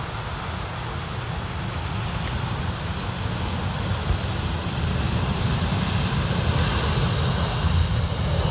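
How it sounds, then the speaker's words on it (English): A British Airways Airbus A319 lands at Amsterdam Schiphol on the Polderbaan, its broad engine roar holding steady and slowly swelling over several seconds, heard from a distance with faint wind, no talk. "Next up we have British Airways landing in from London to Amsterdam."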